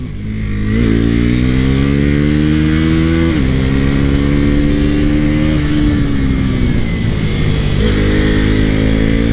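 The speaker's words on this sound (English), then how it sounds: "Super throaty engine and exhaust note." A deep, throaty naked motorcycle's engine and exhaust rev steadily upward, with a few gear-change dips, loud and continuous throughout.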